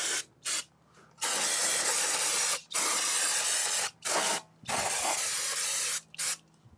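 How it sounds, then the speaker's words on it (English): Brake cleaner sprays onto the rear brake caliper and backing plate of a 2014-2016 Kia Forte in several loud, close hissing bursts, some brief and some lasting a second or more, separated by short pauses. "Just grab your brake cleaner, get a little bucket underneath. Just do a quick cleanup on the backing plate and the caliper itself."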